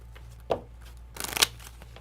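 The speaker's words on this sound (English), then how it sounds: "Shuffle this up real good." A deck of KeyForge cards is shuffled by hand during a game: a single quick riffle snap, then a short flurry of rapid card flicks and slaps, close and crisp.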